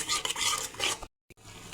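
Spice masala sautéed and stirred in a pan, a busy broadband sizzle with scraping strokes that cuts off abruptly near the end, followed by a single brief clink.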